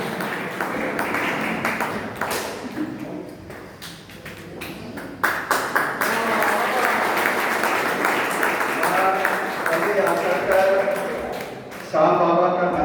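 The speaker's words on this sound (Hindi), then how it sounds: "जोरदार तालियां हमारे नवनिर्वाचित अध्यक्ष दिनेश सराफ के लिए।" An audience applauds for a newly elected president at a public gathering, with scattered claps and taps and patches of louder clapping mixed with talk and a few ringing, tonal sounds.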